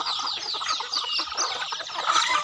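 Chickens clucking on a farm, several birds with busy overlapping clucks and cackles close by, fairly loud and continuous, no talk.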